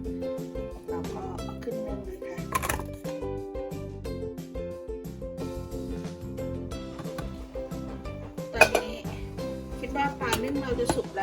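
Metal pot and lid clatter and clink as a steamer pot, already filled with water, is handled in a Thai kitchen to steam fish with lemongrass and herbs, while someone talks throughout.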